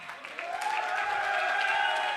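An audience at a rural motivational talk breaks into applause, the clapping building quickly from a few hands into a dense, steady patter that fills the hall.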